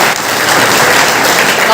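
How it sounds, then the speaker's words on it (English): Brief burst of audience applause for a volunteer at a motivation session, a loud, dense patter of clapping close by, with a possible murmur of voices mixed into it. "a big round of applause for this brother"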